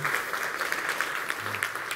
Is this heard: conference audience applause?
yes